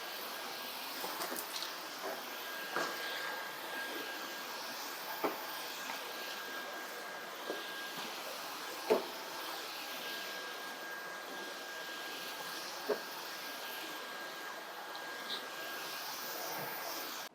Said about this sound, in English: I've got everything off the floor so I can continue to vacuum